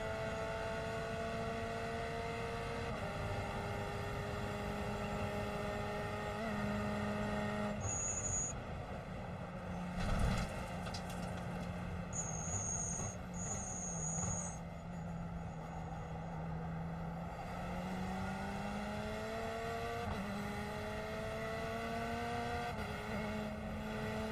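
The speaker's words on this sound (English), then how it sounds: "so you can listen to the wonderful sound that these GTEs make" GTE race car engines in the iRacing sim racing game roar steadily and loudly throughout, with rising and falling pitch as gears shift, plus brief high-pitched tones layered over the engine drone.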